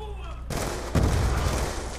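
Video-game gunfire breaks out in a dense, loud burst of rapid shots after a brief quieter stretch, carrying on to the end as a sustained volley.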